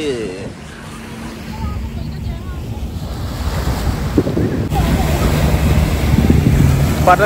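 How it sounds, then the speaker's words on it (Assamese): Sea waves wash ashore at Pattaya Beach in Thailand, a steady surf roar that swells louder in the second half, with wind buffeting the microphone throughout. "পিছত সাগৰৰ ঢৌ"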